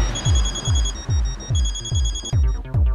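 A telephone bell rings in repeated rapid bursts, a steady pattern of trilling rings with brief gaps, loud and close with no talking over it.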